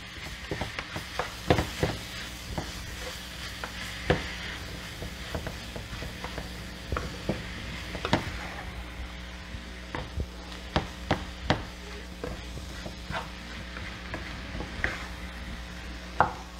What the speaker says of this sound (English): The whole point is saute, you just saute them.